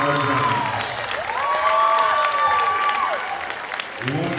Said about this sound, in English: One more round of applause for our dance team and drill team seniors.